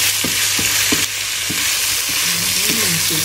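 Chicken offal being stir-fried with curry paste in a hot pan, a loud dense sizzle close up with repeated scraping strokes of the spatula at a steady pace and no speech.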